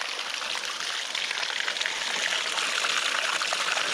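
Water pours and splashes steadily while gold panning at a creek, a dense continuous rushing wash that holds level, close and fairly loud throughout, with no talking.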